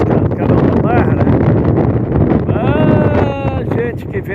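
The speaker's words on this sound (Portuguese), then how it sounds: "O barulho aí do vento deve estar loucura, né?" Strong northeast wind buffets the microphone on the coast near the Barra channel at Laguna beaches, a loud, constant rumbling roar with gusts, while people talk over it throughout.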